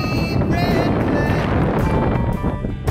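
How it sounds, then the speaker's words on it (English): Strong wind gusting across a high mountain ridge between Buckle and Talus peaks, a loud continuous roar with buffeting against the microphone, steady throughout with brief dips near the end. "Still so windy up here."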